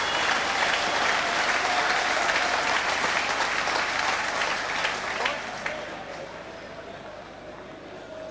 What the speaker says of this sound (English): But just listen to the applause.